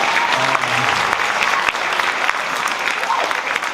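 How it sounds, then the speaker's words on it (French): Loud, steady applause from a theatre audience at a high school drama-option show, dense clapping continuing throughout with brief voices audible early on. "on peut l'applaudir encore"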